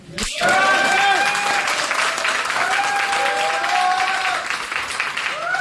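An audience at a trade center seminar in Ludhiana, Punjab breaks into loud, dense clapping that holds steady throughout, with voices calling out and whistling tones rising over it.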